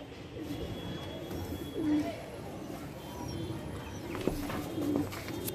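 Soft pigeon coos repeat a few times over a busy, murmuring background, with faint chirps and a brief knock midway.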